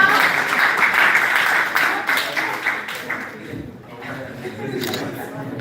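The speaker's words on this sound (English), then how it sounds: "clap for him now." Audience applause at an outreach gathering: sustained, dense clapping fills the room for several seconds and tapers slightly near the end, with voices mixed in.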